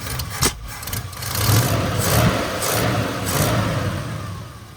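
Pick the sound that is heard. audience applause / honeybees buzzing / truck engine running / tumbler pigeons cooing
truck engine running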